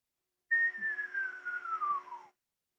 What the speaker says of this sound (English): This is a descending whistle.